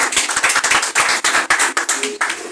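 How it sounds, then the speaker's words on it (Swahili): A church audience claps together in a brief burst of applause, sharp, dense and close, with uneven rhythm. "Mpigie makofi asimame."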